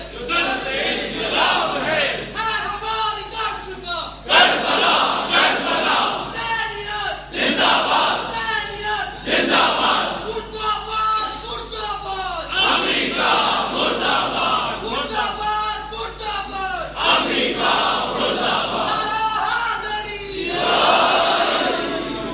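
An audience at a religious majlis gathering chants slogans loudly in repeated rhythmic bursts, many voices rising and falling together for over twenty seconds.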